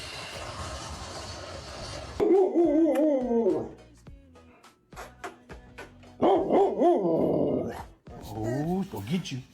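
Jealous pet dog barking in bursts of loud, near, whiny yelps and growly barks, several clustered outbursts separated by short pauses, with people talking nearby.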